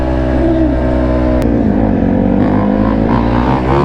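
Two-stroke off-road motorbike engine revving loudly and continuously up close, pitch rising and falling through the revs with a steady buzzing drone.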